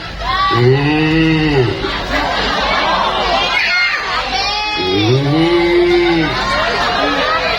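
A person mimics a cow with two long, drawn-out moos, separated by a stretch of noisy background chatter.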